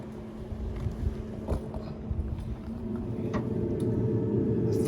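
A Recteq pellet grill's fan running in fan-only mode gives a steady low hum, with a faint constant tone that builds slightly louder toward the end, alone with no talking.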